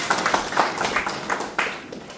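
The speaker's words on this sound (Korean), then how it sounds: "회장님을 큰 박수로 맞이해 주시기 바랍니다." Audience applause welcoming a speaker at a public forum on restoring a sea route, with scattered, uneven claps in loose bursts, moderately loud and thinning out toward the end.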